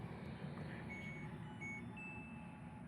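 A self-service laundry washing machine switching on, with a low steady hum under a series of thin electronic beeps and tones that chirp at intervals.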